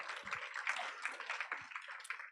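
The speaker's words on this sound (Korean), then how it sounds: "우리 하나님께 영광의 박수 올려드리겠습니다." Congregation applauding together at the close of a Christian school chapel service, a dense, steady patter of many hands clapping at once, fairly faint and heard alone without speech.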